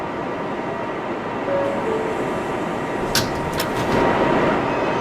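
A New York subway 7 train car running, with constant rumble and hiss, a few sharp metallic squeals and clanks near the end as the ride continues.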